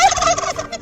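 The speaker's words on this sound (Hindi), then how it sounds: "टर्की एक बर्ड होती है जो कि सिर्फ नॉर्थ अमेरिका में ही पाई जाती है" A turkey gobbles loudly and up close in one rapid, rattling burst, with no talking.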